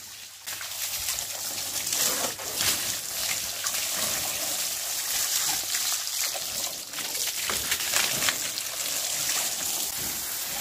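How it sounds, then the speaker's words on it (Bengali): Water sprayed and splashed over a Pulsar N160 motorcycle during a wash: a continuous close hiss and trickle of running water with splashy surges and dribbles lasting throughout, with no talking. "এখন আমরা বাইকটিকে ভালোভাবে পানি দিয়ে ধুচ্ছি"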